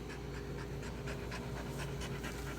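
A senior dog pants rapidly and steadily up close, a continuous rhythmic huffing with no voices.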